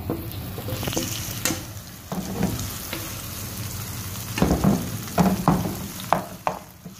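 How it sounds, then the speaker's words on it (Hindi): Spinach paste fries in a pan with tomato, onion and garlic for palak paneer, a close continuous sizzle with bursts of bubbling and several spoon scrapes and clinks as it is stirred, no voices. "अब हम इसने जो पालक का पेस्ट बनाया था वो हम इसमें डालेंगे।"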